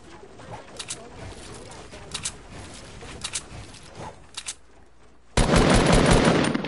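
Video-game gunfire on a PS4 sounds as a string of short, sharp shots spaced at intervals over a steady background bed, then ends in a sudden loud, dense burst of noise.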